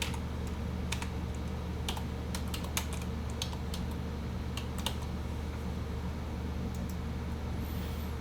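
Computer keyboard keys are tapped in scattered short bursts, quick light clicks close by over a steady low hum of background noise.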